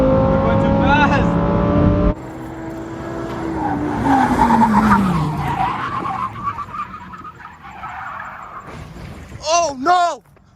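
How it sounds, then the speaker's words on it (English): A Lamborghini skids with rising tire squeal and engine noise, then crashes, with a sharp burst of impact near the end; voices talk over much of it. "We got the whole video of you crashing."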